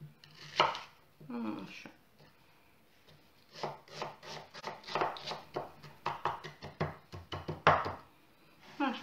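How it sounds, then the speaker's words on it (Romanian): Green onion chopped with a knife on a board, a quick run of close, crisp cuts in bursts with brief pauses, and a short spoken word near the end. "Și ne tăiem puțină ceapă verde."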